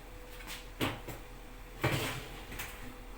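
An oven door handled as chicken wings go into a 200-degree oven, with two distinct thuds and a few lighter knocks and clatters, fairly close in a quiet kitchen.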